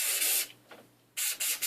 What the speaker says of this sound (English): take your Cool Care, spray a little something something